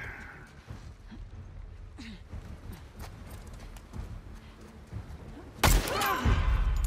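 A single sharp gunshot cracks out near the end of a stretch of low, rumbling ambience in The Last of Us Part II, during a fight with wolves, and a louder, sustained roar follows it.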